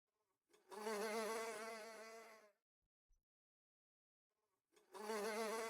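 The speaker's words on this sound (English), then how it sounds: "A swarm of bees had made their home in the ribcage of the slain beast." Two loud bursts of dense insect buzzing, like bees swarming, separated by a few seconds of near silence.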